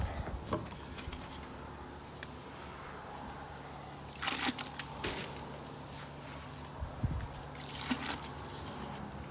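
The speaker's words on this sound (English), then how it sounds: "Now we are going to begin pouring up our concoction." A cement mixture being poured into detailed skull molds: soft wet trickling and sloppy dribbles over a steady low background hum, with a few brief sharper splats and knocks.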